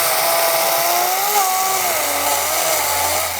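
A Chinese-made Makita power tool cuts wood during a house-raising job in Brisbane, its high motor whine wavering in pitch as it bogs under load, loud and close with no talk.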